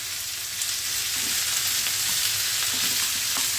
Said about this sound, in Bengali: এবার ফ্লেমটা হাই করে দিলাম। ভেন্ডিগুলো আস্তে আস্তে ছেড়ে দিলাম।